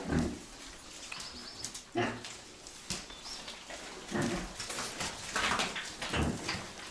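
Fattening piglets, a little over two months old, grunt and squeal in short, irregular bursts close by indoors, with scuffling and rustling noise throughout.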